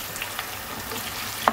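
Diced potatoes frying lightly in a pot, giving a steady soft sizzle with a few faint stirring scrapes and one sharper clink near the end. The sound is close and even, with no voices.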